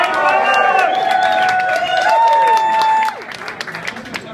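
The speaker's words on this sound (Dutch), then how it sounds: "hier ook, een daverend applaus voor Eva." Karaoke bar crowd at a Hard Rock venue applauding and cheering loudly, with whoops and whistles over the clapping before it drops off after about three seconds.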